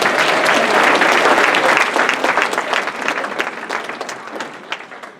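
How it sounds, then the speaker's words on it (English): An audience claps at a computer animation presentation, with loud, dense applause that thins out and fades toward the end. "All right, one more round of applause."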